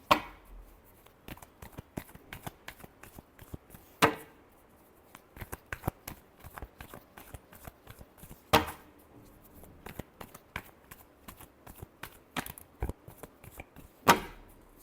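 Tarot cards shuffled in a quiet room, a steady run of soft papery riffles and taps broken by a few sharper, louder snaps spaced several seconds apart.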